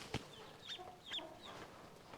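Newly hatched duckling peeping, several short, high, faint chirps spaced irregularly, with a soft click near the start.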